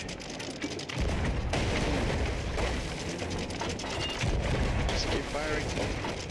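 Naval cannon fire in a Sea of Thieves-style pirate battle against a kraken, a fort and a storm, heavy booms and clattering mechanisms rolling almost continuously, with voices talking faintly over the din.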